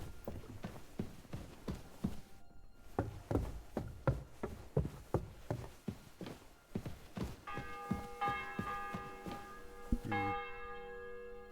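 Church bell tolling in the medieval game Kingdom Come: Deliverance II, a steady run of about a dozen loud, even strikes with long ringing tones, and a sustained chime-like tone in the last few seconds, no talk.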